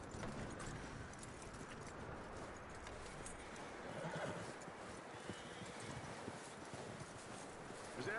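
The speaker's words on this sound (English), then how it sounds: "That looks like a decent horse." A horse in Red Dead Redemption 2 whinnies and stamps its hooves, with a steady clip-clop running under a dense, rustling outdoor background, fairly close but quiet.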